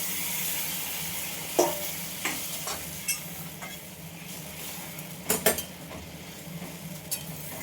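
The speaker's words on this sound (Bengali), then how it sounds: "এর মধ্যে আমি একটু গরম জল দিলাম, কাঁচা জল দিলাম না, গরম জল দিয়ে দিলাম" Hot water goes into a sizzling pan of browned gravy with potatoes, then a spoon stirs and scrapes against the metal in scattered clinks over a steady hiss.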